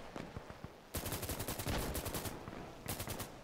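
Gunfire in the video game Insurgency Sandstorm, with sporadic single shots and then dense automatic bursts at moderate distance, the crackle rising and falling over a few seconds.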